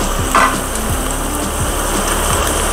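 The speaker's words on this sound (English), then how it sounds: "In goes the tomatoes too. Give it a good stir again." Chopped tomatoes hit a pan of onions already browning in oil, setting off a steady, loud sizzle with a few scraping stirs, and no voices.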